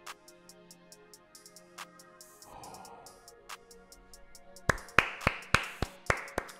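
A run of sharp hand claps, about eight in steady rhythm, loud and close, following quieter scattered taps and a brief rustle.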